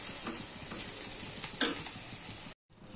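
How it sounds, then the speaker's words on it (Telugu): Eggs are stirred into frying okra in a pan under a constant bright sizzle, with a sharp utensil clink midway before the sound abruptly cuts out near the end. "సో ఎగ్స్ వేసుకున్నాను, కలుపుకోవాలి."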